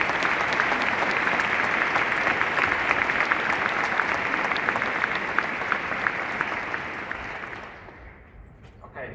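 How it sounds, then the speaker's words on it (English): A conference audience gives a sustained round of applause for event organizers: a thick, continuous patter of many hands at a steady level that tapers off and fades out near the end. "I hope you'll give them a round of applause now because they might not hear it at the end."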